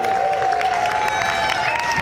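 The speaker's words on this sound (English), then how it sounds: "I don't know what you're clapping for" A live comedy music gig audience at Lakefest breaks into applause and some cheering, a short dense clatter of clapping under a sustained musical tone.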